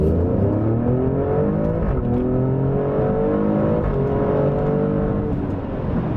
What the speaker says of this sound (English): All right, so the next full throttle acceleration.